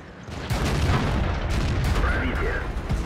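A Soviet T-44-85 medium tank firing its cannon in World of Tanks, a heavy boom with dense rumbling battle noise that stays loud and continuous around it.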